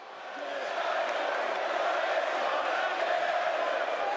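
Wrestling crowd cheering for Bray Wyatt before his singles match against Karrion Kross, a steady broad roar of many voices that swells in during the first half second and holds loud and even throughout.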